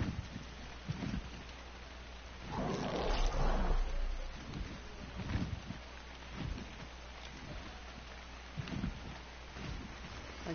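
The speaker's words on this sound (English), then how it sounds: "Stupid rain." Steady rain pours in the video game Ark, with a low rumble of thunder swelling partway through, close and continuous with no talk over it.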